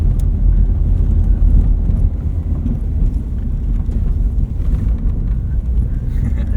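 A Subaru BRZ sports car drives slowly over a bumpy off-road park course, its engine a loud low rumble mixed with buffeting wind and knocks from the rough ground, with no talking.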